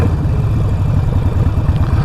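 A 2020 Harley-Davidson Roadster fitted with a Vance and Hines Fuel Pack runs close by, its loud, steady engine rumble holding without a break and not dropping toward a stall.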